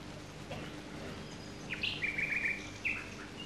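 Songbirds chirp in a springtime natural setting, with a few clear high calls and a short trill of song standing out over a soft, steady outdoor background.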